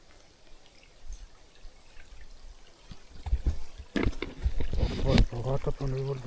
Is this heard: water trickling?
yes